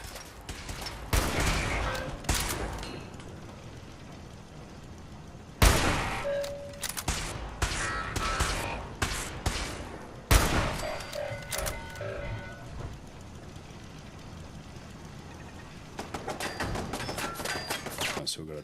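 Turret gunfire in a Commonwealth Wasteland video game, sharp bursts of rapid shots in several separate volleys, spaced by quieter gaps, with someone talking at times between them.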